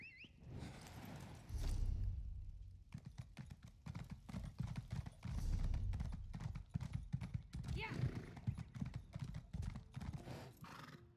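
Horse hoofbeats clip-clop steadily as a mount is ridden in the Elder Scrolls Online game, with an occasional whinny, while someone talks over much of the ride.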